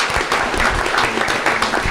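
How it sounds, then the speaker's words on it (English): A room at a county school board meeting claps for FFA students, giving a big round of applause. The clapping is loud and close, with sharp hand claps across the whole stretch. "let's give our FFA a big round of applause"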